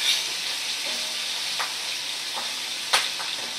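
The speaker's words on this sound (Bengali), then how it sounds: "মাছগুলো দেখো উল্টে পাল্টে সুন্দর করে ভাজা করে নিচ্ছি।" Fish pieces crackle and sizzle in hot oil as they are turned over in the pan, a soft, continuous frying hiss broken by a few sharp scrapes and knocks of the utensil, the loudest near the end.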